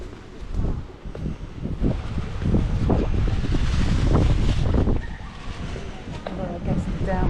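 Wind buffets a microphone outdoors on a breezy day, gusty low rumbling that swells and eases under people talking.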